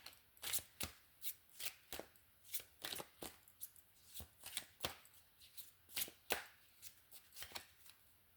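A deck of oracle cards is shuffled and cut by hand, giving a quick, regular series of crisp riffling slaps close up in a quiet room.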